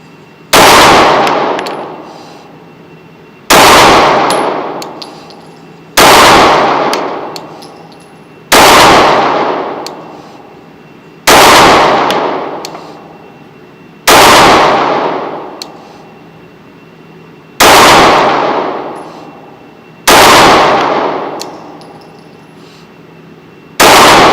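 Pistol shots at a shooting range: nine loud, sharp reports spaced a few seconds apart at a steady pace, each with a ringing decay, no talk in between.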